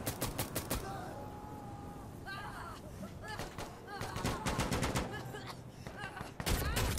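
Friendly gunfire in the tactical shooter Insurgency Sandstorm: bursts of rapid gunshots open the clip, more scattered shots follow, and a final loud volley closes it, all close and sharp over steady game background noise.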